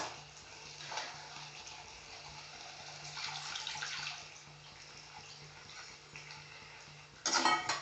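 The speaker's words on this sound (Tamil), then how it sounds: "புளி தண்ணி ஊற்றி கொஞ்சமாக தேவைக்கேற்ப இன்னும் கொஞ்சம் தண்ணி எக்ஸ்ட்ரா ஊற்றிக்கலாம்" Tamarind water pours steadily into a pan with a low hum beneath, ending in a brief louder splash.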